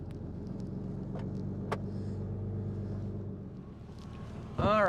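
A truck in four-wheel drive churns its way out of thick mud, a steady low engine drone lasting several seconds before easing off, then a louder burst near the end.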